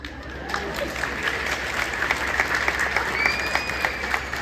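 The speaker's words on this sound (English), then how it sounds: "Clap for yourselves." A high school graduation audience in Casa Grande claps steadily for about four seconds, a dense, even roar of many hands that fills the space and stays loud throughout without talk.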